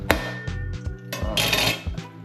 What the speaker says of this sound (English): You hear the shell, guys? Solid like a rock.